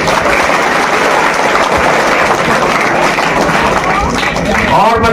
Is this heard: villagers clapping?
yes